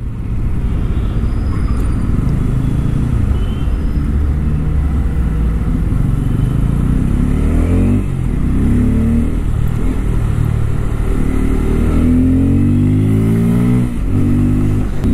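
A 2024 Bajaj Pulsar N250 motorcycle being ridden, its engine loud and close with steady running noise and several revving swells in the second half, no speech over it.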